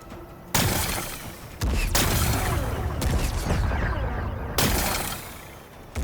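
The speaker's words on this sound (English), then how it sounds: "Gotta blast away some rocks," Rocks blasted apart in Horizon Forbidden West: several loud, booming explosive bursts with crackling debris, separated by brief gaps, one near the start, another around the middle and a final blast late, each followed by rumbling.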